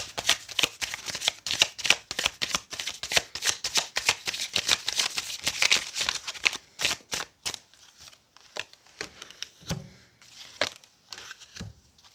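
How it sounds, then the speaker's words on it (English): Tarot cards being shuffled by hand: rapid, crisp riffling flutters for several seconds, then slower scattered taps and slides as the deck is squared, close and moderately loud with no talk. "I'm going to just pull the tarot cards"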